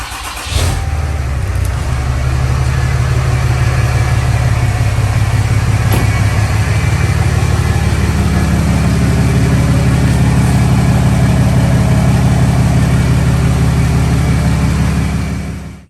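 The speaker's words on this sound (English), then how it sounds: "Fire this thing up, let it warm up a little bit." A 6.7 diesel truck engine cranks and fires up, then settles into a loud, steady idle to warm up, a deep continuous rumble close by with no talk.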